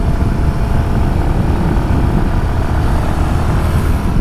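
Royal Enfield Himalayan 452 motorcycle riding a twisty road, its engine and wind noise loud, steady and close throughout, with no voices.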